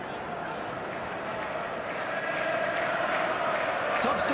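Crowd applause and murmur from the stadium audience in the eFootball video game, a steady wash of noise that swells slightly toward the end, with no voices on top.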